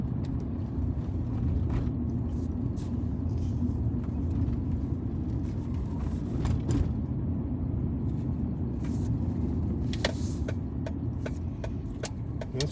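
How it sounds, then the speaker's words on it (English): A loud, constant low engine rumble fills the whole stretch, with faint rattles and knocks on top, heard from inside the vehicle. "This truck is so noisy."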